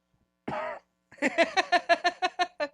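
A short rasping throat-clearing, a brief pause, then a rapid, rhythmic run of about ten hacking coughs, close and loud.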